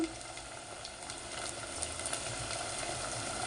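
Ginger garlic paste fries in a clay pot, giving a close, continuous crackling sizzle that grows slightly louder and steadier as it goes on.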